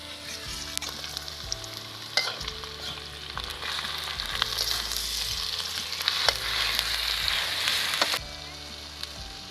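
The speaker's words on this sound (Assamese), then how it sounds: "বগৰীখিনি ভাজি হৈ গ'ল" Jujubes fry in a kadai with oil, onion, garlic and chili, a steady crackling sizzle punctuated by sharp spatula scrapes and knocks as they are stirred.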